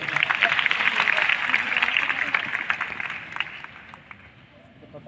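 Audience applause at an NDRF workshop, a dense wash of clapping loud at the start and gradually thinning out over several seconds.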